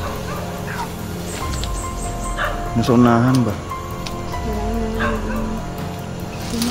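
A dog barks and yelps in a video game about hunting soldiers and bandits, with a short burst of bow-wow barks near the middle. Someone speaks over it throughout.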